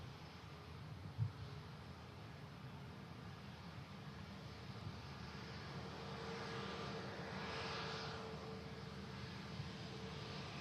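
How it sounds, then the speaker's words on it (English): Eurowings Airbus A319 arriving from Stuttgart landing at Manchester Airport in strong wind, a faint distant jet roar that swells gradually over steady wind noise. "Got a Eurowings coming in from Stuttgart. Airbus A319 next to land."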